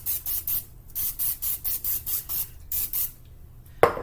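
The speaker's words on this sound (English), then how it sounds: "We're gonna spray again." Short hissing bursts of cooking spray coat a hot waffle iron, about a dozen quick rhythmic sprays close by, followed by a sharp clack near the end, with no talking.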